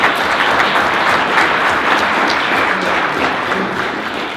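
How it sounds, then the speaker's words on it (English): Steady, dense applause from a crowd at a school board meeting honoring student athletes, loud and continuous for several seconds before easing off slightly at the end. "So how about a nice round of applause for all of our student athletes."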